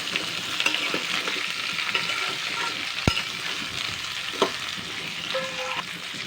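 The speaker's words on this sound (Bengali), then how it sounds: "আগে এক দু মিনিট নাড়াচাড়া করে নেব সবজিগুলো দিয়ে" Drumstick and bitter gourd stir-frying in a pan for Bengali shukto, a steady close sizzle broken by a few sharp scrapes and clinks of a spatula against the pan.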